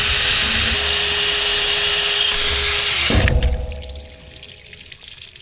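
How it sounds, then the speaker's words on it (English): A drill bores a hole in the side of a trailer. A loud, close, steady whine holds for about three seconds, then cuts off and spins down, leaving a few rattles. "I'm going to go and drill a hole in the side of this and let it drain"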